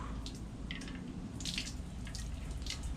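Cold water runs from a tap onto burned arms being washed, a quiet, close trickle with soft splashes and uneven spattering as the skin moves under the stream.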